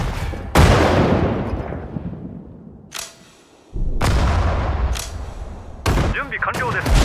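Bursts of gunfire aimed at a target in a Sudden Strike 4 Japanese campaign battle, with loud volleys and rumbling booms, a brief lull, then more shots.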